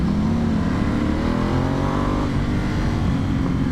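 Vyrus motorcycle engine, a 13-year-old bike fitted with an auto blipper, revving up and down in a steady loud drone with a rising pitch sweep before easing back, no voices.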